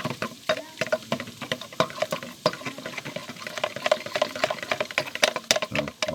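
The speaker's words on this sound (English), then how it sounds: "give that a good stir till it all dissolves" A spoon stirs a mixture in a bowl until it dissolves while preparing pork medallions, giving quick, irregular clinks and scrapes that repeat steadily at close range.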